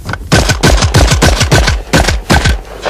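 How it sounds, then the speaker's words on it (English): A Benelli shotgun fires at thrown clay targets in a trap shooting session. Loud, sharp blasts follow each other in a rapid, uneven string across the whole stretch. "There's 7 clay targets with the Benelli shotgun."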